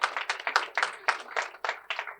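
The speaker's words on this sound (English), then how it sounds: "I'm going to ask you all to give my team a round of applause" An audience applauds the mayor's team at a press conference in a short, close burst of clapping with distinct hand claps in quick rhythm.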